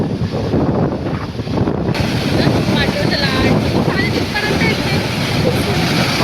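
Sea waves wash onto the shore in a constant broad roar, with wind buffeting the microphone close up.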